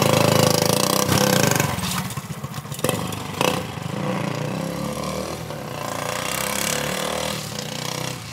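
A motorcycle engine runs steadily nearby with a buzzy, rumbling drone. Its pitch rises and falls slightly as it revs and idles.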